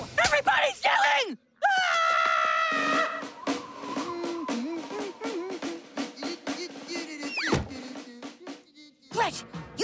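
Cartoon characters yell and whoop together in an excited, loud group outburst, with shrill rising and falling cries and brief pauses between bursts.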